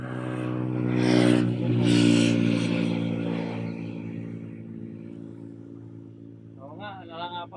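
A warming engine hums at low pitch with a steady throb, swelling in two louder pushes early on and then settling to an idle, with people talking over it.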